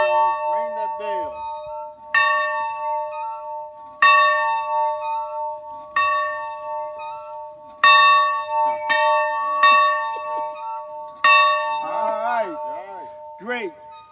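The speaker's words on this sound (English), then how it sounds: "Ring that bell." A large bell is struck hard, ringing out loud and bright about every two seconds, each stroke leaving a long ringing decay, with a voice briefly audible near the end.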